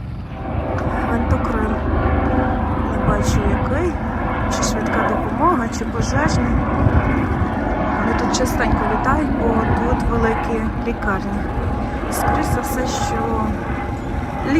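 A continuous roaring drone of an aircraft passing overhead in the United States, steady and fairly loud, with faint chirps of young ducks and voices in the background.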